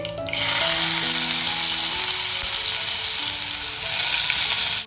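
Mustard seeds, cumin and chopped chilli hit hot oil for egg bhurji, giving a loud, steady, close sizzle that starts abruptly and holds throughout with no talking.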